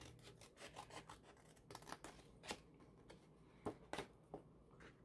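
Scissors snip along the score line of a paper gift box, a quiet run of short crisp cuts with a few sharper snips standing out.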